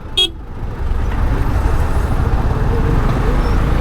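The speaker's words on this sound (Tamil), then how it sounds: "கைஸ் செம்ம டிராஃபிக்குங்க" Dense road traffic on a hill route near Wayanad rumbles loudly and continuously close by, with a brief sharp horn toot near the start over the constant low engine roar.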